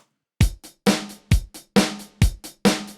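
Dry, punchy Korg M1 synthesizer drum beat, kick and snare hits in a steady pattern with short decays and no reverb, played alone.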